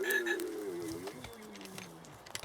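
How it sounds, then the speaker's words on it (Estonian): A frog croaks loudly and close in a drawn-out, descending call, followed by quieter rasping bits, with no talk. "Kalle asetab aaret ja konn krooksub."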